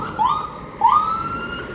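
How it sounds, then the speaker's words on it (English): Emergency vehicle sirens wail in a city street on a humid evening, two rising wails a little distant and moderately loud over faint traffic hum. "we haven't heard any sirens until I came to this part of town, and then it's like sirens galore here"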